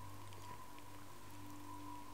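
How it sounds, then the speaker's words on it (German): Steady light rainfall in the video game Hunted, a faint continuous patter with a low game ambience hum beneath it and no talking. "Es regnet."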